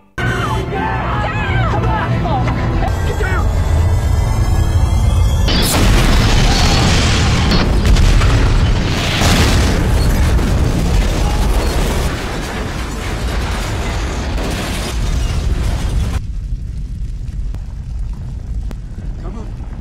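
A building blows up in a dramatic scene from The Walking Dead Season 1, a deep booming blast and rolling rumble that stay loud for many seconds, with a voice narrating over it.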